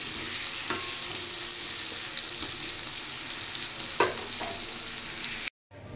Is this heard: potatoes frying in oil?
yes